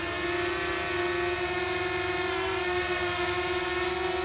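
Small DJI Mavic Mini drone motors spin up for a manual takeoff, a steady high-pitched propeller whine with stacked tonal harmonics, loud and close, holding constant throughout with no talk.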